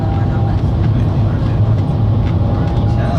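Shanghai Maglev train riding at high speed, heard from inside the carriage: a loud, steady rushing rumble with dense low-frequency roar and no distinct events throughout.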